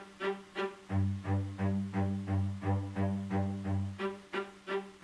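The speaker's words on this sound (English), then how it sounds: "So I added the cello. The cello is very straightforward." Cello chopping out straight eighth notes in a song arrangement, a regular pulse of short bowed strokes that is moderately loud and alone.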